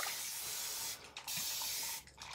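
A continuous spray bottle mists water onto curly hair in long steady hissing bursts, broken by two brief pauses, close and fairly quiet with no talking.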